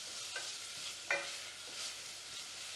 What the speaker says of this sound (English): The onion is frying a bit.